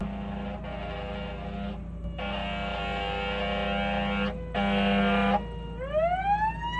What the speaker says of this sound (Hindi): फायर ब्रिगेड जा रही है फिर भी।